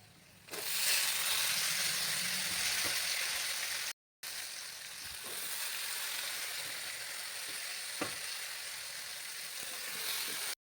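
Moth beans and potatoes hit a hot pan and sizzle loudly, a steady close hiss of sautéing with faint stirring clicks and one brief silent break.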